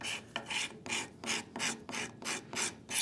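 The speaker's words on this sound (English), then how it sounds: "So we have a lot of this scraping to do." Someone scrapes and files a wooden saw handle by hand, making about eight rhythmic rasping strokes, close and even, each a gritty burst with short pauses between, with no talking.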